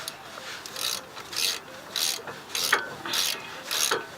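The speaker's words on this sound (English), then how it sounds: "19mm socket and tighten a little more." A ratchet with a 19mm socket tightens a brake caliper bolt on a Nissan Xterra, a series of about seven short, quiet clicking bursts at an even rhythm, close by, with no speech.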